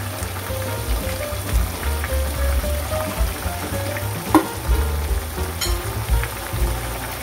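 A fish fillet fries in a pan for a sweet and sour Chinese-style dish, giving a steady close sizzle and crackle with a few sharper pops and some stirring.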